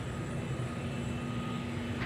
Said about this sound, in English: Jet core booster has just been spotted taking off from the runway.